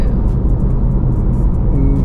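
A Honda ZR-V SUV on the move gives a steady, moderately loud engine hum and road drone that holds evenly for the whole stretch, with no voices.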